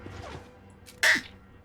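A single muffled, stifled sneeze bursts out close by after a quiet moment, short and breathy against a faint background.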